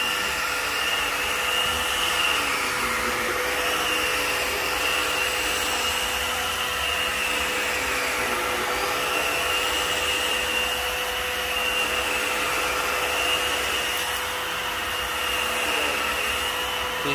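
Filter Queen Majestic vacuum cleaner running steadily on carpet, a loud, continuous motor whine with a constant high-pitched tone and airy rush throughout, alone without talk.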